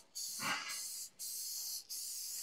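Cooking spray hisses from an aerosol can onto a baking pan for a sticky blueberry coffeecake, three close bursts in a row, the first longest with a rattle, the later two steady and separated by brief pauses.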